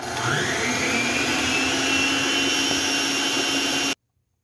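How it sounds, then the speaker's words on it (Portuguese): An electric stand mixer beats eggs for sponge cake at top speed, a loud continuous motor whine with a rising tone that settles, then cuts off abruptly near the end. "Você vai ligar a sua batedeira no volume máximo aí que ela tem"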